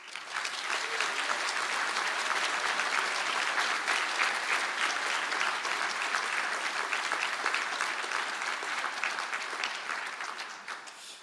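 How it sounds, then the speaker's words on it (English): Audience at a university conferring ceremony in Galway gives a standing round of applause for postgraduate science graduates, sustained dense clapping from a large hall crowd, steady and even for over ten seconds before tapering. "please stand for a round of applause"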